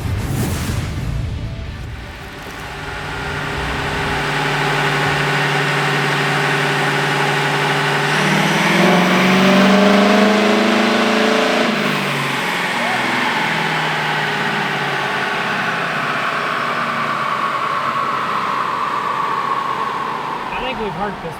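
Ford Powerstroke diesel making a fueled dyno pull, a loud sustained engine roar that climbs in pitch through the middle and holds near, with voices talking over it.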